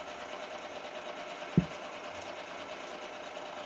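A sewing machine runs steadily, a continuous even mechanical whir at moderate level, broken once by a brief soft thump near the middle, with no voices.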